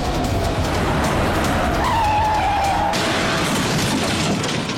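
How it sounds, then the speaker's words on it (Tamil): A vehicle skids with a rising tyre squeal over a loud engine and road roar, then the noise cuts abruptly into a heavy rumbling impact, all loud and close. "எவனோ குடிச்சு வண்டி மோதிட்டான்னு நினைக்கிறேன்டா."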